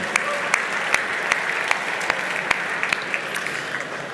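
Audience applause at a chamber of commerce members' presentation, a steady patter of clapping with a few sharp distinct claps standing out, sustained throughout with no voices.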